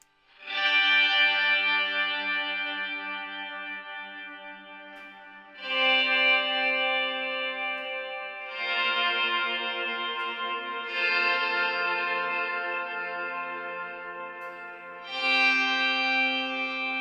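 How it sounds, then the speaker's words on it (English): Guitar notes played through a shimmer reverb preset on a Headrush effects unit, with five swelling chords or plucks that bloom into long, bright, sustained shimmering tails, each decaying slowly before the next, with no talking. "let's put in a shimmer"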